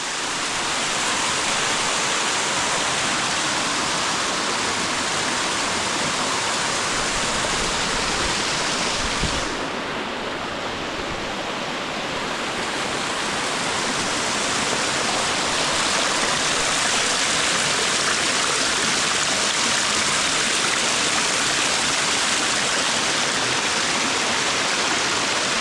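A waterfall near a village roars in a dense, steady rush of falling water that stays loud and close throughout with no voices.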